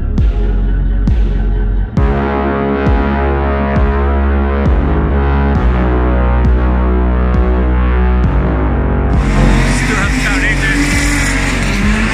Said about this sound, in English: Drift cars. I like drift cars.